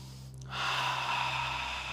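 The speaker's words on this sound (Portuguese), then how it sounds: "Deixa eu ouvir sua respiração, todo mundo junto." Deep, collective breathing from a group of people standing with eyes closed, a long broadband inhale-like rush that swells after a brief pause and holds steadily at moderate loudness, with a low hum underneath.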